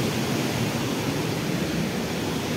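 A steady, dense roar of rushing water from a dangerous, rock-covered waterfall at Amboli Ghat, loud and unbroken, with no voices over it.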